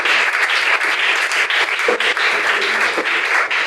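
A church congregation applauding and acclaiming Jesus: loud, close, continuous clapping from many people, with bursts of cheering woven through the steady applause.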